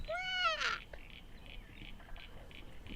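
A black cockatoo gives a harsh, wailing call once near the start, followed by faint, repeated chirps in the distance, in bushland on Mount Ainslie, Canberra.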